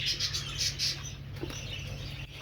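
Budgerigars in a breeding aviary chirp in short bursts of bright, twittering calls, moderately close, over a low steady background hum with no talking.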